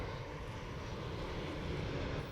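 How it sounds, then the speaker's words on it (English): An aeroplane flies overhead, its steady engine drone holding at a constant, moderate level for the whole stretch with no talk. "waiting for the aeroplane to fly past"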